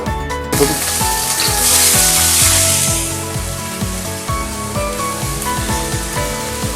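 Mixed vegetables frying in oil in a wok for restaurant-style fried rice, a loud hissing sizzle that swells in the first few seconds and then settles into a quieter crackle beneath background music.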